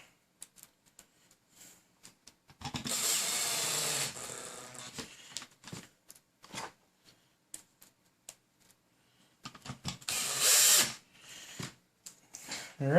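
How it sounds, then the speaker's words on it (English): A power drill drives screws into support legs in two short bursts of whirring, the first about a second and a half long and the second briefer, with quiet clicks and handling taps between them. "So we'll just run those down real quick with the driller."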